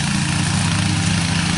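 A riding lawn mower runs while cutting grass, its engine a loud, steady, close drone with a constant low rumble throughout.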